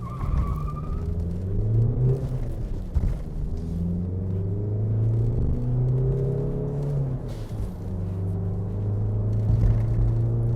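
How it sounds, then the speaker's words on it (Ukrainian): A Volkswagen Passat B5+ Variant engine rumbles and then climbs in pitch as the car pulls away from a standstill and accelerates, close and steady, with no talking. "автомобіль з місця розганяється дуже бадьоро"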